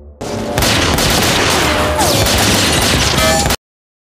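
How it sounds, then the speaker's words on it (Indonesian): Loud, sustained burst of rapid gunfire, many shots blurring into a continuous roar, ending abruptly. "segera memberi isyarat kepada Jack untuk bersama-sama melepaskan tembakan"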